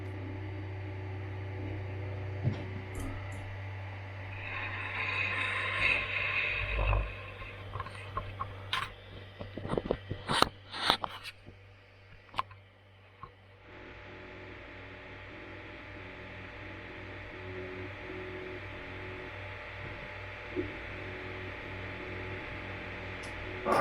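A newly arrived 3D printer printing a pig model, giving off a steady hum with scattered ticks and small clicks from its moving parts, close by and with no one talking.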